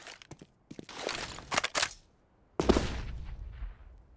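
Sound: gunfire and headshot in CS:GO match, from a video game

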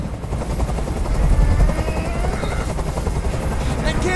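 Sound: helicopter in Detroit: Become Human video game

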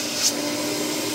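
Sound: Vh2o canister vacuum cleaner running

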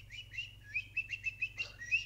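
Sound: person imitating a bird call

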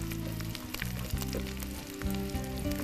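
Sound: onions frying in a pan

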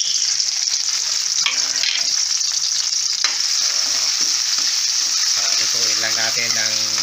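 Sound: sautéing onion and tomato in a pan

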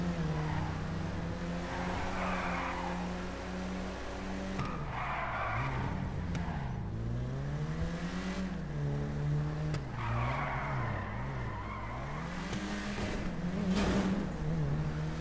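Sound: car skidding in gymkhana driving, video game GTA Online

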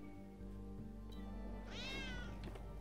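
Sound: cat meowing in video game Trials Fusion

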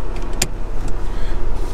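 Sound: car engine running, setting off for a drive

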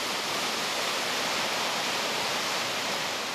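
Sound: massive amount of meltwater rushing through

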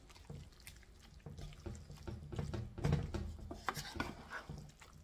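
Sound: mixing turkey dressing with egg

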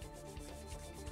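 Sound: rubbing wax onto a fibreglass mould with a rag

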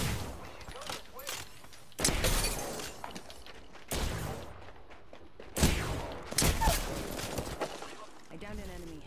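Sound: gunfire from enemies shooting, from a video game

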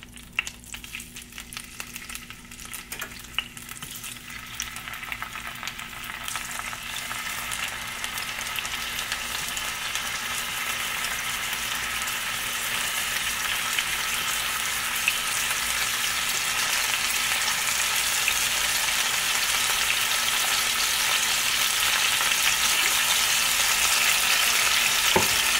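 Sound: chicken wings frying in a pan

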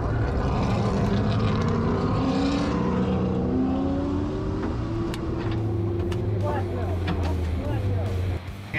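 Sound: race cars driving around Circuit of the Americas track

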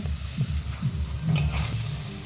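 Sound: sautéing fried potatoes in spice masala

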